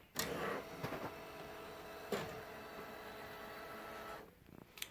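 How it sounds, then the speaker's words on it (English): An Epson WF-7820 printer prints on sublimation paper, giving a quiet steady mechanical whir with a few sharp clicks and clunks near the start and middle, then a brief rattle as the print head stops. "So send it to the printer."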